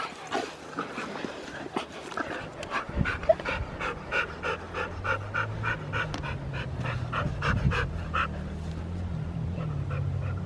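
Dogs pant rapidly and rhythmically close by, a continuous breathy huffing with a low rumble of background noise underneath.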